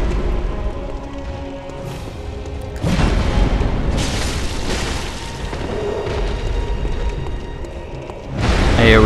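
Boss area attack explosion in Bloodborne's Undead Giant fight, a heavy booming blast that bursts in abruptly and rumbles on with crackling debris, followed by another loud impact at the end.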